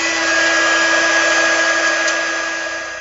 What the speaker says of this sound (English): Now I'm going to use my heat tool to heat set this powder.